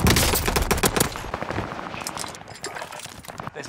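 Rapid automatic fire from an Automaton rifle in the battle-royale game Warzone crackles in dense bursts, loudest at the start and then thinning into scattered, quicker pops.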